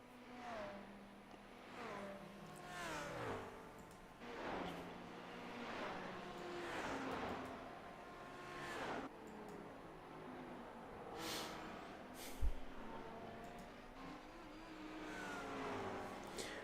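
A bright white and blue McLaren race car in iRacing at Bathurst, its engine revving in repeated rising and falling sweeps as it accelerates and shifts up the mountain, loud and continuous with no talk.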